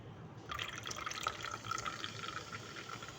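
Fanta poured into a glass of cola, a soft fizzing trickle and bubbling at low level, steady and close with no talking.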